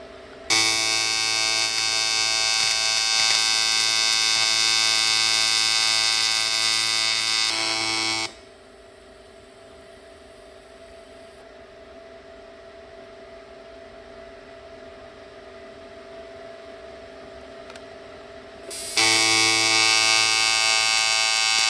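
A welder works a slit on a radiator with a loud, steady electric buzz and hum. It cuts out partway, leaves a quieter stretch of low background noise, then resumes near the end.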